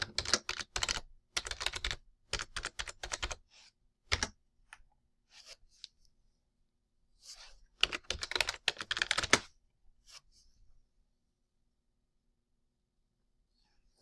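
A password being typed on a computer keyboard while setting up Windows Server 2016 in Microsoft Azure. Two close, fast clusters of keystrokes are separated by quiet pauses with a few isolated taps.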